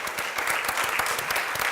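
A conference audience applauds a civil-society summit panel with dense, steady clapping that fills the room and stays at an even, fairly loud level throughout.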